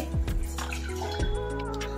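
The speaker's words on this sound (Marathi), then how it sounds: "त्यासाठी एका टोपामध्ये मी 1 ग्लास पाणी घालत आहे." A glass of water splashes and trickles into a metal cooking pot at close range, a short steady pour with a few drips.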